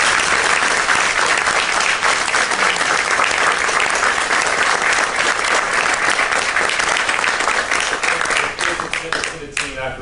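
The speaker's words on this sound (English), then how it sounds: "A round of applause for the incredible volunteers who helped make today possible." Loud, sustained clapping fills a hall as a conference audience at a patient summit awards session applauds volunteers, dense and steady before thinning slightly near the end.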